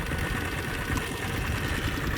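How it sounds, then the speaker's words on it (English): A Chinese quad bike engine idles steadily in neutral, a continuous close low-mid rumble with slight uneven knock and vibration, running smooth with no voices. "going to start this one up and kind of give you an idea of the sound and what we're experiencing"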